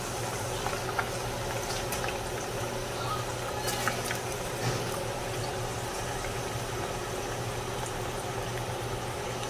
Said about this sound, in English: the palm oil is hot. You don't need to leave it up there, it's real hot. So now I'm gonna put the meat on it.